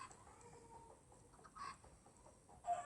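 Video game chickens cluck quietly in a small coop, giving a few soft, short clucks that stand out of a faint, low background.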